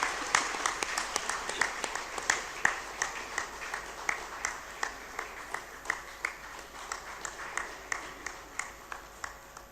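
Scattered applause from a college reunion audience, a thin, fairly distant run of individual claps with a clear steady rhythm that continues evenly throughout.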